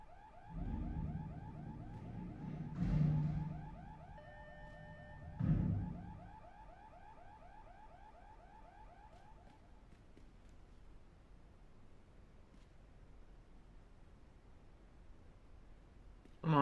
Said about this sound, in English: I was gonna read it, but then I heard the alarm.